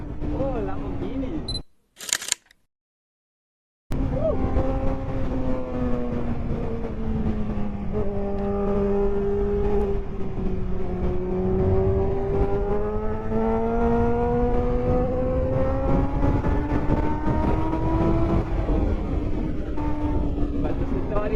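A Lamborghini and superbikes, among them a Honda CBR600F and a Suzuki Hayabusa, rev on the road at sunset. Loud engine tones rise and fall for a long stretch after a brief cut-out at the start.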